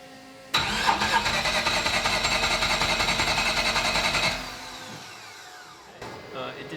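A flooded, rotary-engined Corvette Z06 cranks loudly and rhythmically for about four seconds without catching, then the starter cuts off into near silence followed by a faint rattle.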